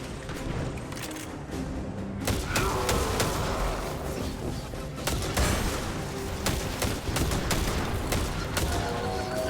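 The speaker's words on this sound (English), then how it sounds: "this pistol feels very, very good to use" A pistol fires repeatedly in the video game Destiny 2 with sharp, punchy shots in quick irregular bursts over a busy backdrop of game effects and explosions.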